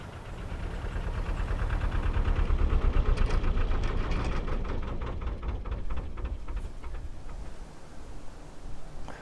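Canal narrowboat diesel engine running at tick over, its lowest speed, in shallow water, giving a continuous low throbbing rumble with a faintly knocking pulse that swells slightly and then settles, close and steady throughout.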